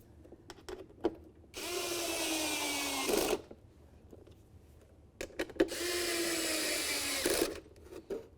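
A power tool whirs in two sustained bursts, each a couple of seconds long, separated by clicks and handling noises, as window regulator mounting bolts on a Dodge Journey door are snugged up nearby.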